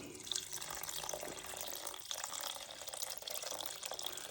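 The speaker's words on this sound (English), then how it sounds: "Now I'm gonna add the water." Water poured from above into a bowl set on a digital kitchen scale, a steady, hissing splash that runs unbroken for several seconds, close and fairly quiet.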